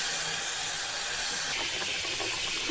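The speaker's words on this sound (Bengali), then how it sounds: "মাছের তরকারিটা বলক চলে আসছে" A pot of fish curry heats toward a boil, producing a constant close hiss of steam and bubbling that barely changes in level, with no one speaking.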